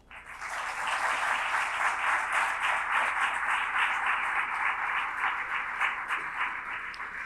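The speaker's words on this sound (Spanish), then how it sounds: "para el que pido para los dos un fuerte aplauso." An audience breaks into applause to welcome two speakers to a philosophy conversation, the clapping swelling quickly and holding as a dense, even roar before easing slightly at the close.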